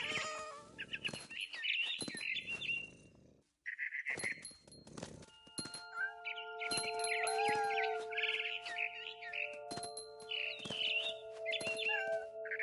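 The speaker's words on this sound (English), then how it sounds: "Then I heard chirping outside my window. It was a barn swallow going back to her nest." A barn swallow chirps and tweets in short bright bursts in the game What Remains of Edith Finch, with sharp clicks and small impacts between calls and a faint sustained tone underneath.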